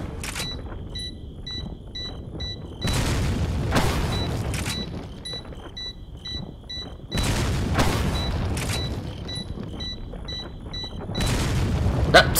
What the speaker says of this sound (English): I'm just gonna shoot at it a couple times.